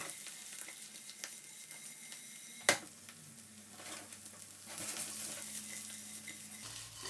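A flat fish fries in a pan with butter, giving a steady close sizzle with a sharp clink of a utensil against the pan and soft stirring sounds.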